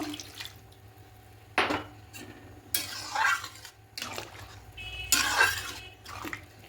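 Chicken keema pulao in a pot, with milk poured in and the rice stirred through. A few scraping, clattering bursts of spoon against metal and wet slopping, close and fairly soft, with no voices.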